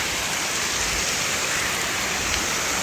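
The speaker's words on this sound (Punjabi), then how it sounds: "ਇਹ ਜਿਹੜਾ ਪਾਣੀ ਰੁੜਦਾ ਵਾ ਇੰਨਾ ਠੰਡਾ" Icy mountain water near Hemkund Sahib rushes past in a constant, close, dense roar, with no voices heard.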